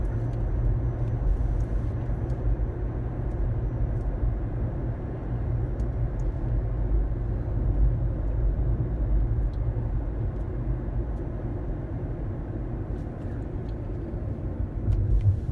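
A Toyota Prius Prime plug-in hybrid driving in electric mode makes a continuous low cabin and road hum, steady and unchanging, with no engine note and no speech.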